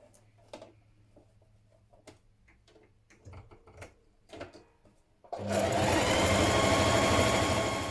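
A sewing machine stitches the side seams of a dungaree bib with a 1.5 cm seam allowance, starting after some quiet handling clicks and then running loud and steady close by to the end.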